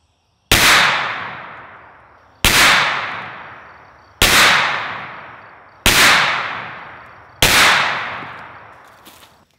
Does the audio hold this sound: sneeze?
no